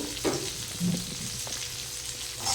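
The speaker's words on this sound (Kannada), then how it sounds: "ಉಳ್ಳಾಗಡ್ಡಿ ಆಯಿಲ್ ಐತ್ರಿ ಇದ್ರೊಳಗೆ, ಅದಕ್ಕೆ ಉಳ್ಳಾಗಡ್ಡಿ ಹಾಕೋತೇನೆ ರೀ." Onions frying in oil for a paneer masala, a steady close sizzle broken by a few scrapes and stirring knocks from a utensil.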